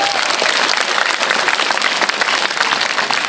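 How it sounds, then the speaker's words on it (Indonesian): Audience at an education ministry working visit in North Sumatra breaks into dense, loud applause, many hands clapping steadily throughout with no talk over it. "Tepuk tanganlah dulu."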